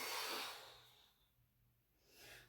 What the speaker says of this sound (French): On prend une grande respiration et on expire.